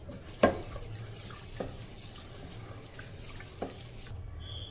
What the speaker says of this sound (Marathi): सर्वप्रथम यामध्ये पाणी घालू आणि डाळ स्वच्छ धुवून घेऊ